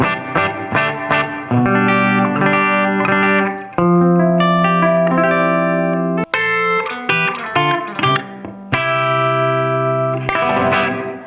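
Clean electric guitar strums and picked chords through a Strymon Iridium amp modeling pedal, ringing with a light room reverb tail, played alone at steady volume with brief pauses between phrases.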